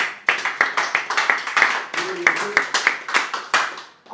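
A congregation claps in steady unison rhythm for the Lord at a church service, sharp regular beats about three per second, with a voice briefly heard over it.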